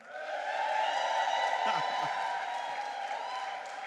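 Sustained crowd cheering and applause at a literary society summer party award announcement, a dense steady roar of clapping and whoops throughout, with a brief voice cutting through partway.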